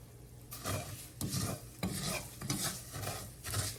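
White rice toasting and browning in a pan, stirred in about five rhythmic scraping strokes over a soft sizzle, close and fairly quiet with no voices.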